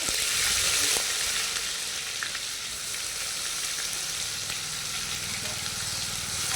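Onion paste hits a hot pan for chicken curry, giving a loud, dense frying sizzle that holds steady close by, with a faint scrape partway through.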